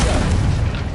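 A Confringo spell explosion bursts in a Hogwarts video game, one loud, near boom that fills the brief moment and fades slightly at the end.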